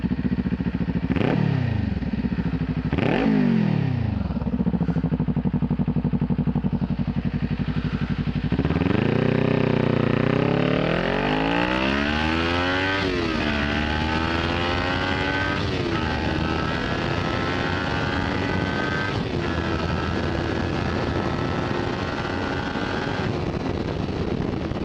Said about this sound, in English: give you an idea of what the exhaust sounds like when you're sitting on the bike, banging through the gears, and then of course we're going to give you a flyby